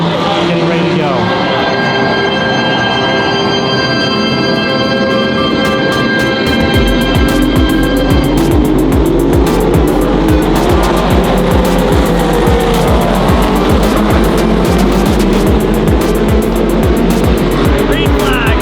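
Race cars at the Lone Star Le Mans six-hour endurance race roll toward turn 1 for the start, a dense roar of engines swelling and pulsing as the field builds, loud and sustained with faint voices underneath.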